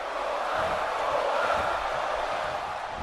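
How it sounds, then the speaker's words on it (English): A roaring video game crowd in WWE 2K17 cheers wildly as a steady wash of loud, dense noise throughout, with no clear voices over it. "You heard the crowd there started going ballistic for the Bizarre One"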